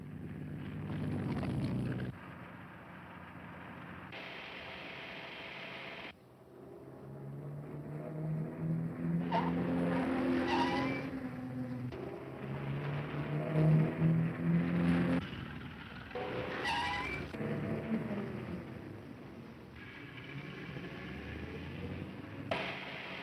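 A 1934-era car racing at speed in a chase, its engine droning steadily for over twenty seconds with a rising, surging roar and some tyre squeal through the middle, no voices over it.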